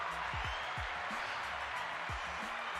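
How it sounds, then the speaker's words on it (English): Applause from an audience at a live podcast show, a steady broadband wash of clapping that fills the whole moment at a fairly even level, with faint low tones and voices mixed underneath. "Give you guys a round of applause."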